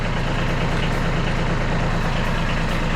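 Kubota B2301 compact tractor engine idling nearby, a steady low diesel chug with a constant rumbling throb and no other sounds.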